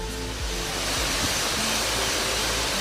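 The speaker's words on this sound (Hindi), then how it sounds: "वाटरफॉल के हम बहुत ही नज़दीक हैं, यहाँ से मुझे दिख रहा है" A nearby waterfall hidden behind bushes produces a constant broadband rush of falling water, even and unbroken, with no voices.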